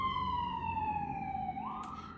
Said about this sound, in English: that siren is distracting me.